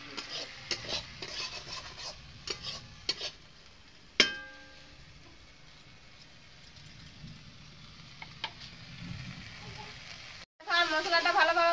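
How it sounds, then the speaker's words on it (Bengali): Spice paste fries in oil with a soft sizzle while a spoon stirs and scrapes the pan, giving scattered clinks and one sharp metallic knock. The hiss swells again near the end. "আমি ভালোভাবে মশলাটাকে আমি ভাজিয়ে নেব যতক্ষণ না তেল ছাড়িছে ততক্ষণ"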